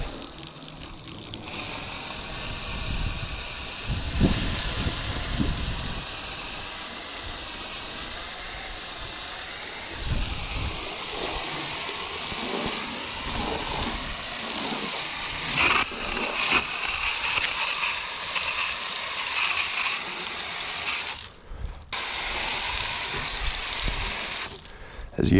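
Foam cannon on a garden hose spraying water onto a car, a loud continuous hiss and gush of spray running steadily throughout, with brief shifts as the stream moves and one short pause near the end.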